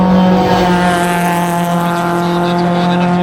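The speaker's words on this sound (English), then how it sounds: "With a V8 motor and it's going up the hill at the same time as a Ford Fiesta" A V8-engined race car climbs a hill at a hillclimb event, its engine holding a loud, steady drone with strong harmonic tones, close and sustained throughout without a break.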